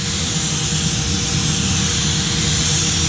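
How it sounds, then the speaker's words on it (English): Spray gun laying 1-part sealer over primer on a Ram truck bed, a loud close continuous hiss of atomized spray running steadily throughout. "We're getting ready to chase it with a sealer."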